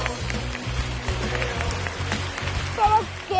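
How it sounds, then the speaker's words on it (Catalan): A crowd of school students and audience at a Nules school clapping loudly in a dense, sustained patter, with a voice briefly cutting in near the end. "un aplaudiment molt fort!"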